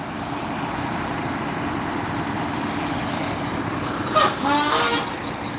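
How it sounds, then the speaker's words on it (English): Trucks roll past near a river during a search, a steady roadway rumble with a short horn toot rising briefly near the end. "More trucks."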